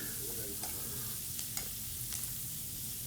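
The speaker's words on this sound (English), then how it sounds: "Then we saute this, make sure everything is good, and once it's translucent" Onions and ginger being sautéed for curry sauce, a low steady sizzle with a few faint stirring scrapes from a utensil in the pan.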